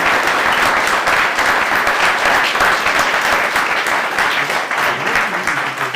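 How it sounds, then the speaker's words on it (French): An audience at a bronze-level Youth, Sports and Associative Engagement medal ceremony applauds Yves, producing dense, loud, sustained clapping from many hands that stays close and steady for the full stretch, with no talk over it. "je pense qu'on peut déjà applaudir Yves."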